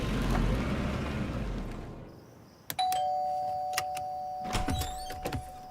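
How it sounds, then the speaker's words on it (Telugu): A doorbell rings in a Telugu action thriller scene after a fading low rumble, a few sharp electronic chimes with one sustained tone, clear and close, with no talking over it. "కాలింగ్ బెల్ ఎందుకు కొట్టారండి?"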